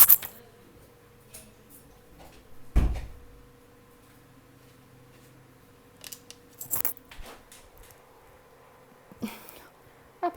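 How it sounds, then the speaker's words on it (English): A door is shut in a quiet room with one sharp, close thud partway through, followed by scattered smaller knocks and clicks that stand out against near silence. "I need to close the door again"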